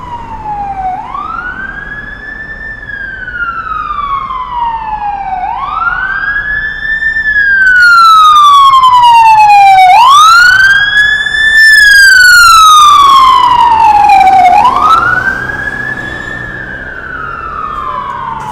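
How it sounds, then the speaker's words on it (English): A loud wailing emergency vehicle siren sweeps slowly up and down in long, repeated cycles, close and continuous, with passing evening traffic rumbling underneath in Toronto. "oh, sirens"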